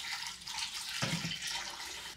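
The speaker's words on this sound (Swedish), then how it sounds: "Här har vi varmt vatten." Hot water pours into a clogged household drain, a steady broadband splashing rush that grows heavier about halfway through, close and continuous with no talking.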